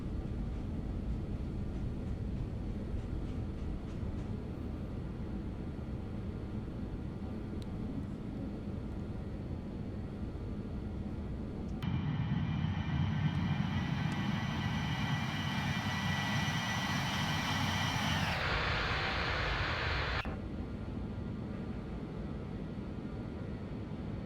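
A BAE146 jet airliner on its takeoff run, a steady loud engine roar with a rising whine that swells midway, then drops back to a broad rumble as the aircraft lifts off.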